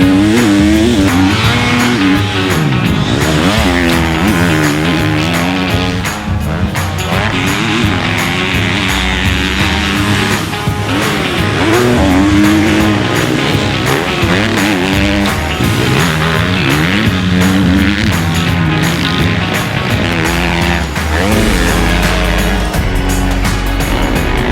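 A 2021 KTM 250SXF four-stroke motocross bike ridden hard off-road, its loud engine constantly revving up and dropping through gears, close and continuous with no voices.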